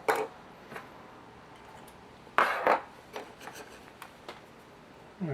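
Excess material is carefully trimmed off a model rocket during its build, giving a few brief, close scraping and cutting rasps separated by quiet pauses.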